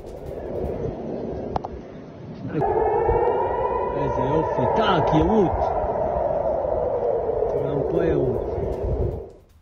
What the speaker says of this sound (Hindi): इजरायल के कई शहरों में एयर रेड सायरन सुनाई दे रहे